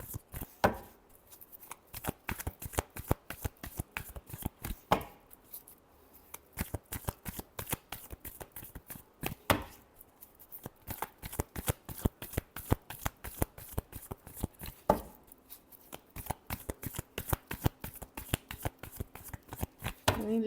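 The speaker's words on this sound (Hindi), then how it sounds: "25 से 31 तक लास्ट शफल" Tarot-style cards are shuffled by hand for a weekly horoscope reading, with rapid, crisp riffling flicks in steady bursts. The sound is close and fairly quiet, pausing briefly between shuffles.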